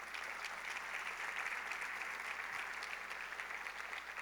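A church congregation claps in steady, even applause, a dense wash of many hands that sounds somewhat distant and fairly quiet, with no talking over it.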